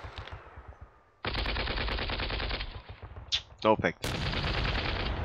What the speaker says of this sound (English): Those machine gunners, keep firing at that.